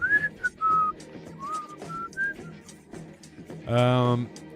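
A person whistles a short wandering tune, steady mid-pitched notes rising and falling over several seconds, while someone talks over and between the notes; a brief louder voiced burst comes near the end.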